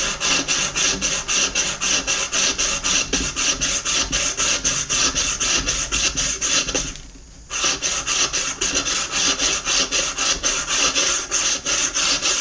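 A tungsten rod bush saw cuts through natural garden rock in fast, even back-and-forth strokes, a loud close gritty rasp that pauses briefly midway and then resumes at the same rhythm, with no talking.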